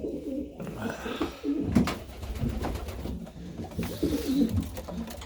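Young pigeons coo in an aviary in low, soft, rolling calls, close and continuous, with shuffling and light clatter from the birds around them.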